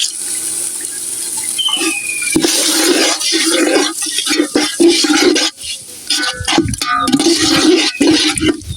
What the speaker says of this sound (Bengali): আমি একটু পানি দিয়ে দিই